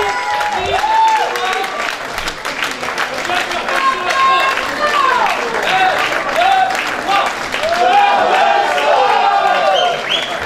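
A concert audience applauding after a gospel performance of Amazing Grace, with loud sustained clapping and cheers while a voice speaks over it.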